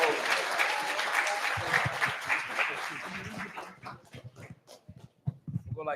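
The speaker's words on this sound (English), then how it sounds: "Clap it up." An audience at a business talk claps loudly together, the applause thinning after a few seconds into scattered separate claps and murmuring voices.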